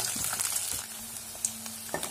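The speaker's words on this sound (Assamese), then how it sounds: "এতিয়া মই মাছখিনি ভালদৰে ফ্ৰাই কৰি ল'ম।" Puthi fish frying in hot mustard oil in a kerahi wok gives a steady, close sizzle and hiss, with a few soft stirring clicks and brief crackles.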